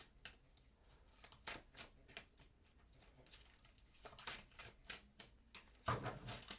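Repeated soft riffling and tapping of tarot cards being shuffled, a steady patter of quick flicks close by with no talking.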